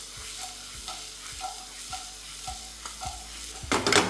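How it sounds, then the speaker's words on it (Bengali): Bell peppers and green peas tossed in a pan for chicken stroganoff, giving a soft, steady sizzle with regular light scraping strokes roughly every half second, ending in a louder burst of frying and clatter. "এবার এই সব কিছুকে আমি ভালো করে একবার টস করে নেবো"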